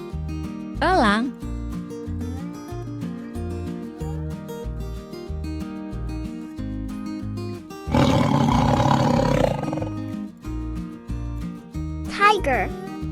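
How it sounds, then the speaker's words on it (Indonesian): A tiger gives a loud, rough, sustained roar lasting about two seconds over continuous rhythmic backing music, with brief voiced calls before and after it. "tiger"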